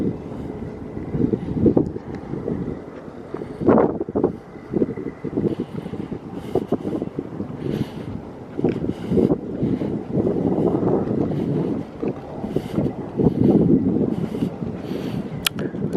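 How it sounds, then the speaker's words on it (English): Strong wind gusts roar and buffet the microphone beside the flooded, rising Mississippi River in New Orleans, a continuous rough rumble swelling and easing throughout. "Pretty windy out here."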